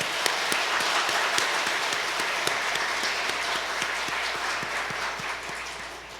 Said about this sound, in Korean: 하나님께 감사와 영광의 박수